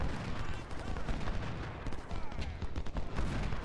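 Artillery fire in Ultimate General: Civil War, a dense, continuous rumble of distant cannon and gunfire blasts overlapping throughout, steady and battle-thick with no clear gaps.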